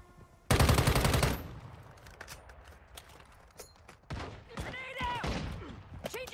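Automatic gunfire in the mobile shooter Call of Duty: Warzone Mobile, a loud sustained burst at the start followed by scattered single shots, thuds and game effects, with someone talking over it.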